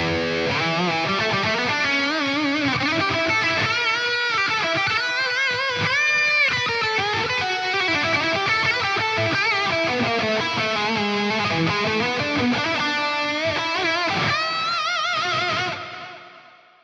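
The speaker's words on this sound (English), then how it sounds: "there's a scene on there with ridiculous amounts of gain and reverb and delay" A high-gain electric guitar drenched in heavy reverb and delay plays sustained, layered melodic lines with long echoing tails, loud and continuous before a fade at the very end, with no voices.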